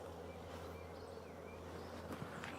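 Bees hum around an open wooden beehive box on a farm, a faint, continuous buzzing swarm drone with occasional louder passes of single insects near the hive.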